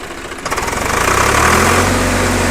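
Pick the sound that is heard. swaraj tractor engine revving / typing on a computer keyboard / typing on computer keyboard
swaraj tractor engine revving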